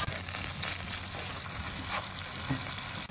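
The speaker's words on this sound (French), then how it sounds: "Les oignons, je vais faire revenir dans le beurre de l'huile d'olive." Steady close sizzling and crackling of onions frying in butter and olive oil, continuous throughout with faint clinks and no voices.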